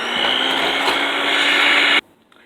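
An electric mixer creams keto chocolate chip cookie batter with a cracked egg, a loud steady whir running for about two seconds before cutting off abruptly.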